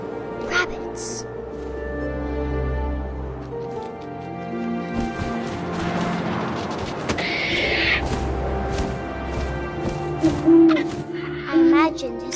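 An owl hoots inside the What Remains of Edith Finch video game, with soft calls rising over wind and game ambience while a narrating voice talks through much of the scene.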